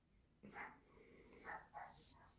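A pet dog indoors gives three or four sharp barks, faint and somewhat distant, spaced irregularly over low room noise.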